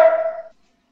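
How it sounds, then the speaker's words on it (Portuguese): A dog gives a single short bark that rings out briefly over an open computer microphone during an online class, then cuts to silence. "eu liguei meu microfone com o meu cachorro latindo"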